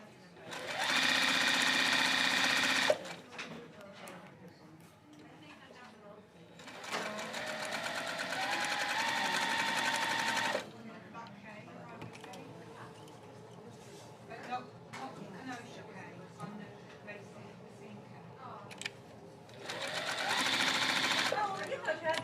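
A sewing machine threaded with Magnifico on top runs straight lines of stitching during a quilting class, in three loud, fast, whirring bursts separated by quieter stretches of voices talking.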